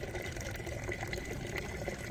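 Thick liquid waste decomposer, about a litre, pours into a bucket in a steady gushing splash that runs unbroken throughout, close and fairly quiet, with no one speaking.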